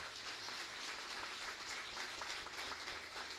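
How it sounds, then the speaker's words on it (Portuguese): A church congregation applauds together at a youth conference, a steady dense wash of clapping with no pauses, moderately distant and filling the room throughout. "Vamos aplaudir ao Senhor, fiquei tão contente."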